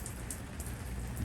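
Steady rain falling outdoors, a dense continuous hiss of drops striking surfaces nearby, loud and unbroken throughout.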